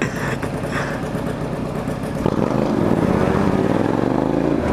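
An engine idles nearby, then a motorcycle passing by in London revs up loudly and roars steadily close by.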